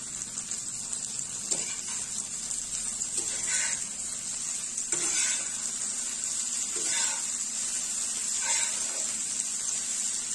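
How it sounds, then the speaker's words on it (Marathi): Shallow frying until crispy in a pan, a steady hissing sizzle running throughout with a few brief clinks and scrapes scattered across, fairly close and alone without talk. "छान क्रिस्पी होईपर्यंत आपल्याला हे मस्त फ्राय करून घ्यायचे आहे।"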